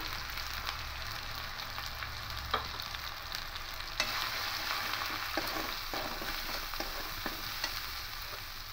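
Ground coriander, cumin, turmeric and Kashmiri chili powder sizzle in hot oil in a pan, a steady moderate frying hiss broken by several sharp clicks and scrapes from stirring.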